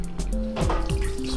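Pineapple juice, two cups, poured into a pan heating over high heat, making a short, steady liquid trickle and splash with faint dripping, close and alone.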